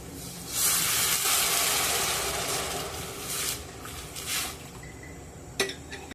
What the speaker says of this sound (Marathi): तर आता मी यामध्ये गरम पाणी घालून घेते पाणी गरमच घालायचं आहे